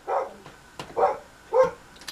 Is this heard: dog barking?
yes